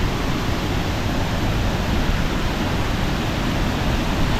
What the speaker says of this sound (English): That is some torrential waterfalls